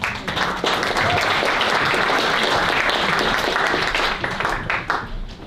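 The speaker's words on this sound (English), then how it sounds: "Round of applause while I try to get his presentation up." Crowd applause at a Highway 4 community winter preparedness event, dense clapping from many people that holds strong and thins slightly toward the end.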